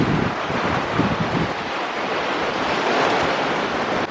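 Ocean waves wash continuously against the shore on Jeju Island's west coast, a broad roaring hiss mixed with wind buffeting the microphone, with no voices.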